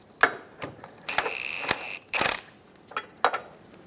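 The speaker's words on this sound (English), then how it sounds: "We're going to loosen the rear subframe bolts" A ratchet loosens the rear subframe bolts on a 2003–2007 Honda Accord, giving short bursts of sharp metallic clicking separated by brief pauses, close and clear with no talking.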